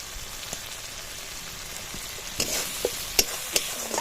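Spice masala with kasuri methi frying in a pan, a soft steady sizzle with a few stirring scrapes and knocks toward the end, close but fairly quiet, no talking.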